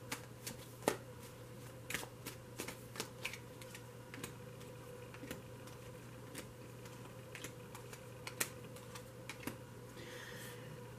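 Tarot cards being shuffled in a quiet room, a long series of soft, rapid card clicks with sharper snaps at irregular moments, close but fairly faint over a steady low hum.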